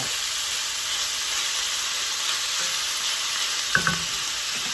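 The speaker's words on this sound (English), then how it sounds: "We just want a nice crust on the outside of the meat." Steak sizzles and sears steadily in a hot skillet, a continuous bright frying hiss with a couple of brief louder pops near the end as the meat is shifted.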